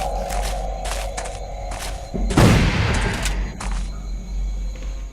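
Gunfire in the dinosaur-hunting video game Jurassic The Hunted: several sharp synthetic shots, with one heavy boom near the middle, over a steady game background hum.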